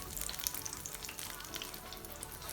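Tuna falafel frying in hot oil gives a steady, close crackling sizzle with dense pops throughout, moderately quiet and with no talk.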